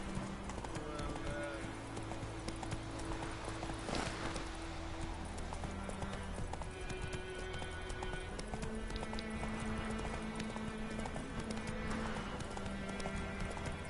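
Roach the horse gallops in Witcher 3, rapid clip-clopping hooves with occasional snorts running steadily over game music and ambience, a voice speaking faintly now and then.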